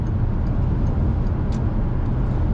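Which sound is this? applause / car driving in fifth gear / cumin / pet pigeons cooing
car driving in fifth gear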